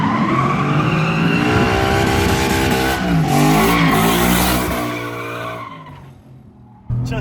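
A Ford Mustang slides sideways with its tires squealing loudly over a roaring, revving engine, the screech running steadily for several seconds before it fades and a sharp burst returns at the end.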